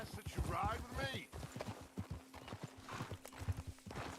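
Horse hooves clip-clop steadily while riding in Red Dead Redemption 2, a quick even rhythm of close, distinct hoofbeats, with people talking over them.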